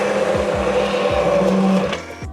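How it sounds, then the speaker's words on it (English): Hand blender blitzing soup in a pot, a steady mid-pitched motor whir with small knocks as it moves, close and loud, stopping abruptly at the end. "I'm going to use this hand mixer or hand blender"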